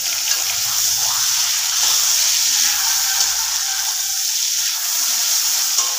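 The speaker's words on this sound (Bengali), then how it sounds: "মাছটা ভেজে নিন ছেলে।" Fish frying in a pan at home, a steady, fairly loud hiss of hot oil that continues throughout, with faint watery clatter in the background and no voices.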